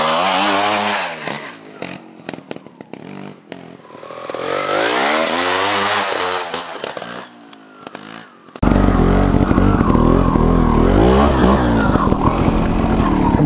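A Gas Gas TXT 280 trials motorcycle revs in rising and falling bursts as it climbs uphill, a buzzy two-stroke engine that drops and surges, then ends in a sustained loud roar close by.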